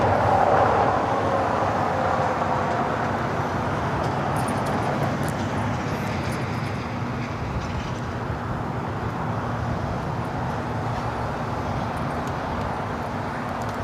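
A wide-body jet takes off from the north side of LAX, likely an A330neo, heard as a steady, broad rumbling roar from a distance that holds unbroken for about fourteen seconds with no voices.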